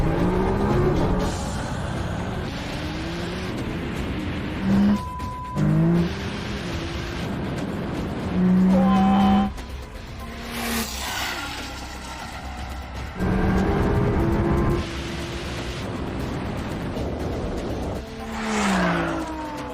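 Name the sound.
1600HP Nissan GT-R, Audi R8 and McLaren 720S racing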